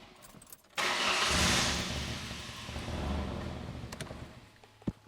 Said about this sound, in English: Let's just fire the truck up